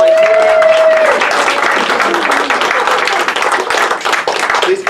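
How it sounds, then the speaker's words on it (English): Audience applause at a live magic show as a volunteer is called up to the stage, loud dense clapping with some cheering voices, continuing steadily and then tapering off slightly. "get a nice round of applause for volunteering"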